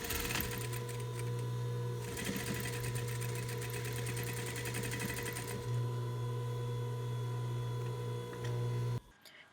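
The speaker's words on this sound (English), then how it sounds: "we're going to be sewing the shoulder seams first at 1/2 inch, and then we're going to also be sewing the side seams at 1/2 inch as well" A sewing machine runs steadily for about nine seconds, stitching the shoulder and side seams of a knit pencil dress at a half-inch allowance. It gives a close, continuous whirring hum with a rapid mechanical patter, then stops abruptly near the end.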